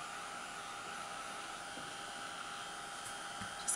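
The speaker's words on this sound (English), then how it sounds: "now I'm gonna dry it." Steady whirring blast of a heat tool drying an image transfer on a handmade luggage tag, a constant close airflow hiss with no talking.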